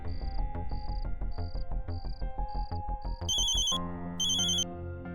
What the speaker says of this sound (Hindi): फोन बज रहा है मैडम सर, मगर कोई उठा नहीं रहा है।